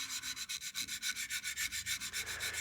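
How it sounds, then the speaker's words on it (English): A wooden coin box is spot sanded by hand with 400 grit sandpaper in quick, even back-and-forth strokes, a soft rhythmic rasping heard close and alone. "I'm actually going to go back to my 400 grit and spot sand that"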